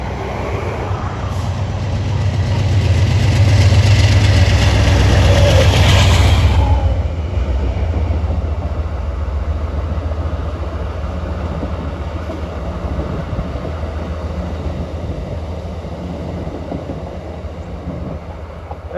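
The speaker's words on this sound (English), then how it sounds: "that was the eastbound Pennsylvanian en route from Pittsburgh to New York, passing under the Route 53 overpass" Eastbound Amtrak Pennsylvanian passenger train rumbling under a highway overpass on a busy rail line, a loud deep roar that swells and then fades into a steady, gradually receding rumble.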